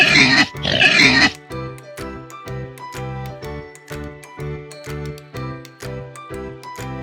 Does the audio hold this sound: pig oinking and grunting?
yes